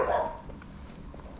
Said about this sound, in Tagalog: Dami aso. Naghihintay ang mga aso bro.